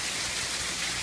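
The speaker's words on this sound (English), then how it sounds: "the rain keeps coming down" Steady rain pouring down, a dense, even wash of drops hissing on surfaces, continuous and close with no voices.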